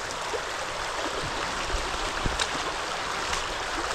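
River water rushes steadily throughout a crossing of a small-town river, a dense continuous flow with occasional faint splashes and knocks.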